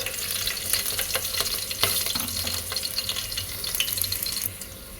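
Oil sizzles steadily in a pan while green chilli and curry leaves fry for a paneer masala curry, a close, continuous crackle with a few sharper pops and light stirring clatter.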